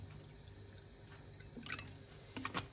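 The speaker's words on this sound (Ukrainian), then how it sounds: "Оцет я наливаю в цей же стакан." Vinegar poured into a glass while brine for a pickled cabbage snack heats, heard as a short quiet liquid trickle with small splashes near the end, close and soft over a faint background hum.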